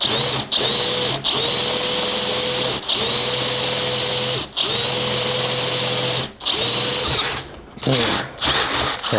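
A DeWalt DCD805 cordless impact drill bores through material in loud, close bursts of high whining motor noise, stopping and restarting several times before breaking through.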